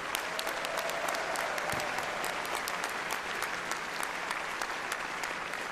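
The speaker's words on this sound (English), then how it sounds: "Let's give ourselves a big round of applause." An assembly audience at the UUA General Assembly gives sustained, even applause, a steady wash of many hands clapping throughout with no talking.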